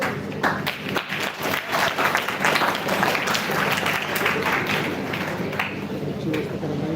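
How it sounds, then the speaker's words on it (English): Steady applause from a crowd, dense overlapping claps filling the room with a few voices mixed in, sustained throughout. "big round of applause for her"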